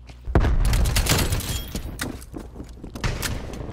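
A grenade blast in Call of Duty: Black Ops Cold War hits loud and close as one heavy boom, with scattered gunfire and crackling clatter continuing through the rest of the moment.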